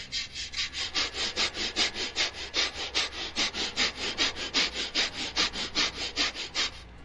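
A hand saw cuts through wood in a steady back-and-forth rhythm, around thirty quick rasping strokes in a row, close and fairly loud with no talking.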